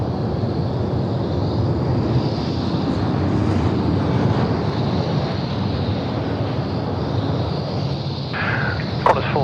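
Airliners, including a FedEx freighter and an AirAsia jet, at Sydney Airport at night: a loud, steady roar of jet engines filling the whole stretch, with a brief bird-like chirp near the end and no talk.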